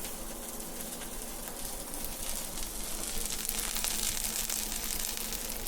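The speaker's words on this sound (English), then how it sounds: "That's getting good and sizzling." A grilled cheese sandwich fries in a pan, giving a steady, close crackling sizzle that grows slightly louder partway through, with no talking over it.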